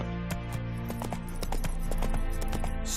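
Roach, a horse in The Witcher 3, gallops with steady rapid clip-clop hoofbeats, close and loud over a sustained music bed, with no talking.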